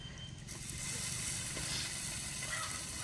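Chillies and tomatoes dropped into a hot pan for traditional Kongu-style arisi paruppu soru, a soft steady sizzle with faint crackles rising after a quieter start, heard close and alone.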